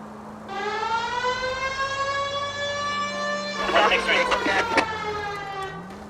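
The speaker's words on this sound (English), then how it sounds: "I've always found the siren useful in situations like this." A police car siren in the video game L.A. Noire wails as a loud, steady electronic tone, with a burst of clattering noise partway through, and a brief pitch rise at the end.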